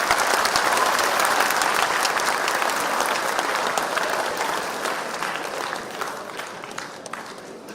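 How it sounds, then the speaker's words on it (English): An audience gives a large, sustained round of applause for Finland's ambassador in Delhi, loud and even at first, then slowly easing off as scattered claps continue. "Let's have a huge round of applause for her too."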